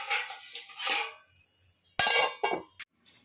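A metal lid clatters onto a cooking pot of spicy pepper chicken, a few sharp clinks and rattles close by after quieter kitchen shuffling, with no talk.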